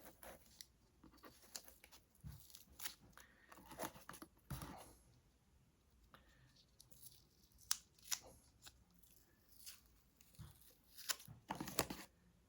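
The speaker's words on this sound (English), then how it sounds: "so I'm gonna take out the tape." Tape being pulled off a Ford Maverick interior panel after glue has dried, heard as faint, scattered tearing and crinkling snaps close by in a quiet room.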